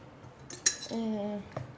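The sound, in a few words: dishes and cutlery clinking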